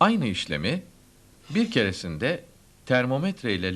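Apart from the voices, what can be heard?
No everyday noises stand out.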